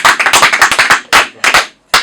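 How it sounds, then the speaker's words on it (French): An audience claps in a quick burst of close hand claps, breaking off into a few scattered separate claps at the end. "Je pense qu'on peut acclamer."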